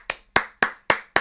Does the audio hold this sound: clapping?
yes